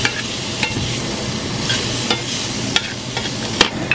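Beef sizzles and fries in its own rendered fat with onion for a beef stew, a steady crackle with sharp scraping stirs and utensil clinks throughout, close and moderately loud with no talking.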